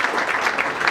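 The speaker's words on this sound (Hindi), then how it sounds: "आप सभी की तालियां बजती रहनी चाहिए जब ये अवार्ड प्रदान किया जा रहा है" Audience applause greets an award being presented at the Ajivasan Vasantotsav 2025 music tribute event, a steady, dense wash of many hands clapping throughout the short moment.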